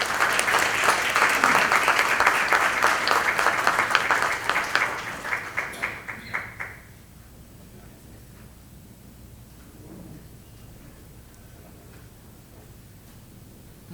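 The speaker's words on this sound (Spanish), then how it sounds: "Les ruego que la recibamos con un caluroso aplauso." Warm audience applause greeting a speaker at a lecture on voting trends and public opinion, dense clapping for about seven seconds before fading into a quiet room.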